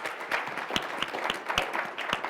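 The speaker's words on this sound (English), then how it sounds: "I'd like to just call for one big round of applause for our panel" Audience applause at a conference on Iran for a panel that has just finished, a steady patter of hands with a few sharper nearby claps standing out, moderately loud and continuous throughout.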